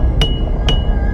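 Two sharp metallic hammer strikes on nails ring out about half a second apart, loud and close, in a horror-story setting at night outside a house, with a low rumbling background.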